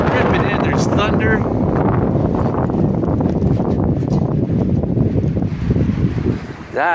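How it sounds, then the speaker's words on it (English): A strong gust of wind roars down a road during a stormy night, a loud, sustained blustery rush buffeting the microphone, with brief voices at the start and end. "Just a huge gust of wind coming down the road."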